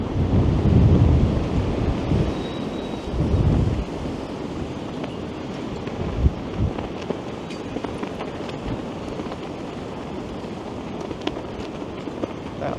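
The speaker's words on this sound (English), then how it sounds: "That wind is blowing quite strong to the south." Strong wind gusting along University Avenue in downtown Toronto at twilight, a loud, continuous rumbling buffet that swells heavily in the first few seconds and then settles into a steady roar, with no voices.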